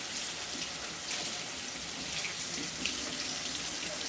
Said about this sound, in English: Rinse them off because they put tons and tons of salt and stuff on them